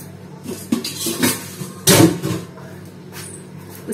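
Dishes and utensils are washed in a home kitchen after a meal, with scattered clinks and clatters of pots and cutlery, one louder knock in the middle, and no talking.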